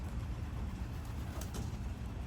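Racing pigeon cooing softly and steadily in a loft, its low murmuring coos blending with a constant broadband background hiss, no voices present.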